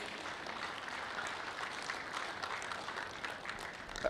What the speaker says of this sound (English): Really put your hands together.